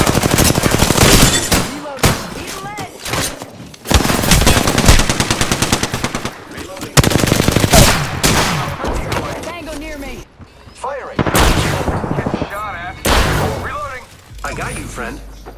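Gunfire in the Apex Legends video game, loud bursts of rapid automatic fire broken by brief pauses across the whole stretch, close and dense, with occasional mechanical clicks between volleys.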